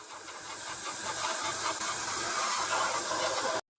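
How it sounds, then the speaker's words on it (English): Steady hiss of Vallejo matte acrylic varnish sprayed over a painted Tamiya 1/35 Tiger I tank model, one continuous close burst that cuts off sharply at the end. "we'll protect everything that's been done so far with some of the Vallejo matte acrylic varnish"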